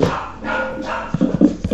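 A dog in a video game barks and yelps in a few short, close bursts toward the end, over a steady noisy background.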